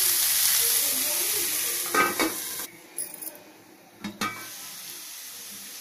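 Bitter gourd frying in a little oil on a non-stick tawa: a steady sizzling hiss that eases and softens, interrupted by a few sharp clinks and scrapes of a utensil against the pan.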